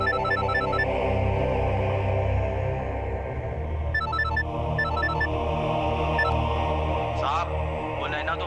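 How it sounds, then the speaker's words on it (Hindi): A telephone rings in a tense household scene from the TV crime drama Crime Patrol, with repeated short electronic ringtone bursts over a loud, dense background of dramatic music and ambience; brief pauses separate the ring groups. "अरे सुनिए, आपका फोन बज रहा है।"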